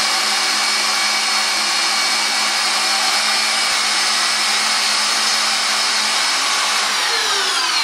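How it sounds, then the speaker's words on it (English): An electric mixer whips cream toward stiff peaks for a chocolate mousse, giving a steady, loud, unbroken whir that holds at one level from start to finish, with no talking. "Add it to the mixer."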